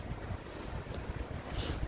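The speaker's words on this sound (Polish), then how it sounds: "A tu widzę, że szykuje się następna wichura." Strong wind buffets the microphone outside an abandoned house with a constant low rumble and roar, gusting steadily throughout.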